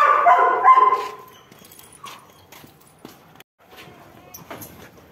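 A dog barks and yelps a few times early on, then quieter scuffling and faint movement follow.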